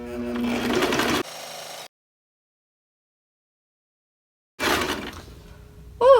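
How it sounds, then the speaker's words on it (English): Sewing machine stitching a seam on a wonky log cabin quilt block, a close mechanical whir in a short burst, then silence, then another short run of stitching. "And then we're just going to stitch our little seam here."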